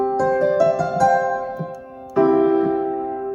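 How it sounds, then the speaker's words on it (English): A Nord Stage 3 stage piano plays an all-purpose grand piano sound layered with a soft backing pad: a few close, bright chords that ring and sustain, then a fresh chord left to fade. "this is kind of just an all-purpose grand piano sound with a backing pad"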